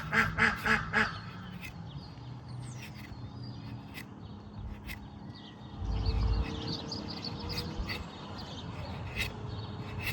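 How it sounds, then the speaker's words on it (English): A burst of rapid quacking opens, then scattered duck calls continue intermittently over a steady low background hum. "There's my ducks."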